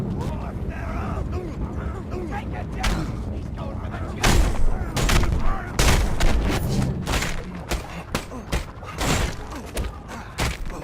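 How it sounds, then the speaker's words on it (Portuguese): Repeated gunfire and explosive thuds in the Mad Max video game, dense booming shots in irregular bursts over a constant rumble of combat noise, with someone talking at times among the shots. "Para de atirar, ô seu cretino."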